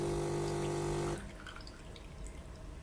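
A Gaggia Naviglio coffee machine pumps water through its brewing system during degreasing, a steady humming drone with trickling water that cuts off after about a second, leaving quiet dripping.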